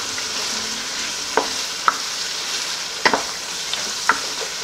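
Ground egusi with stockfish fries in a pot with a continuous soft sizzle, broken by a few sharp clinks and scrapes from stirring; no one talks.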